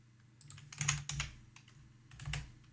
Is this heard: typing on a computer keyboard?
yes